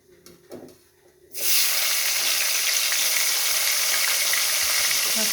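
Cumin seeds and tomato hit hot oil after fried potatoes, for a fish curry, bursting into a loud, steady sizzle that starts abruptly after a second of quiet stirring and holds close and strong.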